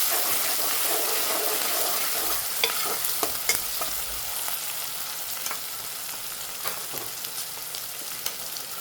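Sautéed ingredients stirred and mixed in a hot pan, a steady close sizzle with repeated scraping clicks of the spoon against the pan, no voices.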